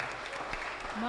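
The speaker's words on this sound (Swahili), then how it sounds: "tumpigie makofi" A congregation claps at a Kikuyu-language Sunday church service, a brief burst of broadband clapping with a voice speaking over it.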